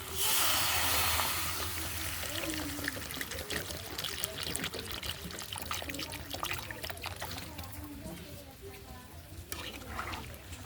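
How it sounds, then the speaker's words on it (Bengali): Water poured into a shrimp curry cooked with fresh papaya and taro: a loud rushing pour at first, easing into a trickle and softer bubbling as the liquid settles into the pot. "বন্ধুরা দেখুন আমার কষানো হয়ে গেছে, জল দেব।"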